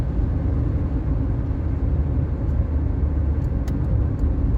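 Steady traffic rumbles around a driving-school car on a multi-lane road, with cars coming up on the right in a continuous low engine and tyre drone that stays even throughout and has no voices over it.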